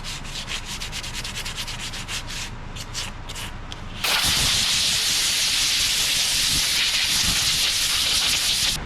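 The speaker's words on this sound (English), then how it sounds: "it's time for our Brad's abrasive sanding paste" Close, continuous abrasive rubbing with sanding paste on a red mallee burl piece being turned, turning harsher and louder partway through, a dense gritty hiss of sanding with no voices.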